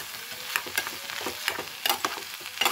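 A spatula stirs and scrapes stuffed pointed gourd (patol) with raisins in a frying pan, drying it out, irregular clinking taps over a soft sizzle, close by with no talking.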